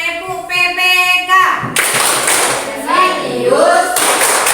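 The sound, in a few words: class doing rhythmic PPK clapping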